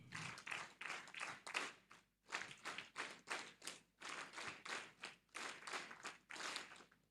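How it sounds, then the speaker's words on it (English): A room full of orientation attendees clapping together in rhythmic bursts, steady group applause broken by brief pauses, loud and close with no talking. "Clap for yourselves now."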